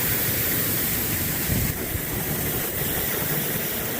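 Grain auger running steadily as cleaned winter wheat drains into it from a cleaner fitted with a magnet, a dense, even mechanical rush and hiss with a low rumble, close and constant throughout.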